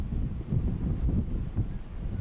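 Steady low wind rumble buffeting the microphone on a windy afternoon in Honeymoon, Saskatchewan, with gusty surges and no other distinct sounds.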